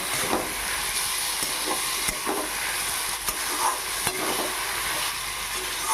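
Bottle gourd and fried prawns are stirred in a pan, with a steady sizzle and hiss of frying and faint scraping stirs under it, close and continuous throughout.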